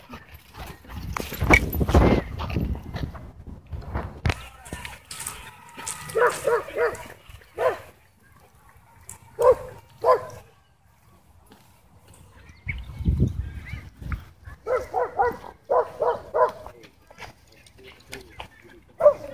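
A German Shepherd mix plays roughly, letting out bursts of barks, growls and excited vocal noises in uneven clusters separated by quieter pauses.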